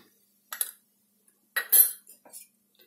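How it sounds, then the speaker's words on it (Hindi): A spoon clinks against a metal dish while turmeric powder, salt and chaat masala are mixed together, in two short bursts of scraping and clinking separated by quiet gaps. "अब इसको मैं मिक्स कर देती हूँ"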